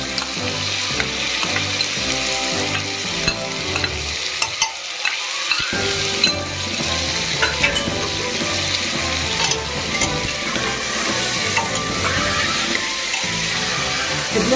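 Ginger and chana frying in a pan for a homemade Daba-style chana dish, a steady loud sizzle with intermittent stirring scrapes throughout, briefly dipping near the middle, no talk.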